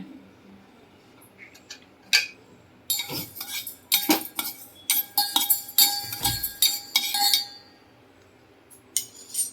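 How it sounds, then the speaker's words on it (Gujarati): A spoon clinks rapidly against the sides of a vessel as fenugreek coffee is stirred, quick metallic taps bunched together, close and fairly loud. "ચમચી લે પેલા ચમચીથી હલાય"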